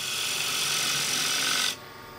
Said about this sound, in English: Spindle gouge